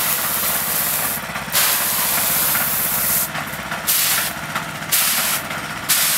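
A loud, steady hiss of waterproofing coating being sprayed onto a foundation wall runs continuously, broken by a few short pauses, up close.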